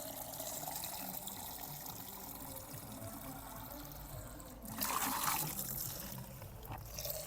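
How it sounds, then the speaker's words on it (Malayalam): Water is poured into a bucket to dilute fertilizer for cauliflower and cabbage plants, producing a low steady trickle and then a louder splashing pour near the end, heard close with no talk. "ഒരു 5 കപ്പ് വെള്ളമെങ്കിലും നമുക്ക് ചേർക്കാം."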